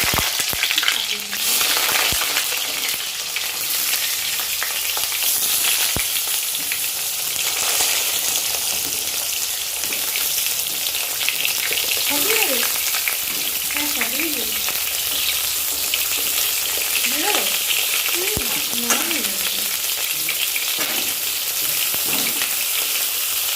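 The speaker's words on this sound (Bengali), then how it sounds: "এবারে বেগুনটা ভাজি বন্ধুরা, রান্না করতে হবে" Brinjal slices fry in a pan with a loud, continuous sizzle and crackle throughout, punctuated by occasional sharp pops and faint utensil clinks.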